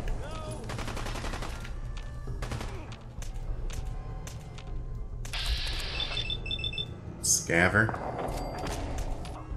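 Gunshots fired in VATS targeting mode in Fallout 4, a rapid series of sharp cracks and bursts with bright electronic tones, mixed under ongoing talking.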